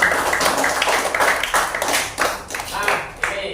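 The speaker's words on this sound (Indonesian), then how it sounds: "tepuk tangan untuk semuanya." A group claps in applause at an Indonesian primary school, SDN Manyaran 1, with dense rapid hand claps rising and falling throughout and voices mixed in with the clapping.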